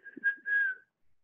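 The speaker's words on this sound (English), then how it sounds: "I hear a zookeeper whistling in my ear." A person whistles a short, steady tune close by, two sustained notes separated by a brief breath, then silence.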